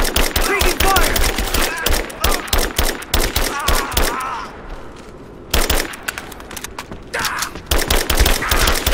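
Heavy gunfire in Rise of the Tomb Raider on Xbox 360: rapid bursts of automatic shots crackle almost without pause, loud and close, while soldiers' voices shout over the fighting.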